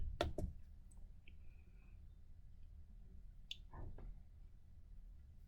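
Sharp computer mouse clicks while sending a referral form: two quick clicks near the start, then a couple more a few seconds later, close and crisp over a quiet room hum.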